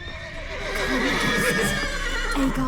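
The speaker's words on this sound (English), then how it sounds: "Gotta calm all the horses before they wake the guards." Horses neighing and whinnying inside a stable in The Witcher 3, with faint hoof clops beneath the sustained calls, heard close and alone.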